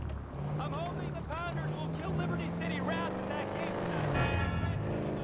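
A car driven fast in GTA V, a steady engine drone with rising and falling revs running throughout, while people talk over it.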